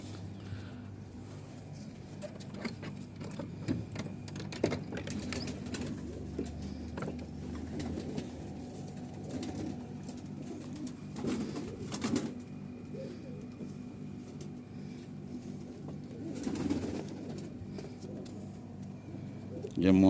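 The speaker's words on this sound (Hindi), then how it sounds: "ये मोजा कबूतर है" Malwai Punjabi Mojha pigeons with feathered feet, kept in a coop in Punjab, give low soft cooing over steady hum, with talk nearby throughout.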